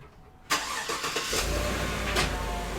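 A car engine cranks and starts abruptly, then settles into a steady, loud, close idle that carries on to the end.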